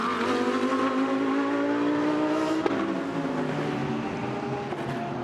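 Lamborghini race car at speed on the Long Beach street circuit during GTP qualifying, a loud sustained engine note that rises in pitch and then drops as it passes, with no talk over it.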